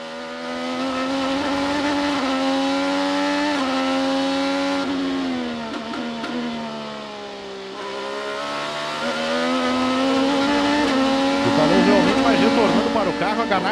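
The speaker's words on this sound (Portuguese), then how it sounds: "o som e a fúria do motor Chevrolet de Pato Ward" Chevrolet IndyCar engine roaring at full throttle during the 2022 Road America race, a loud sustained high-pitched wail that dips with downshifts and climbs again as the car passes close.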